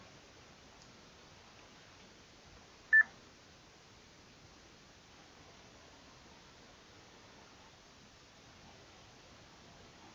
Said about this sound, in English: it is working, but I'm getting the confirmation beep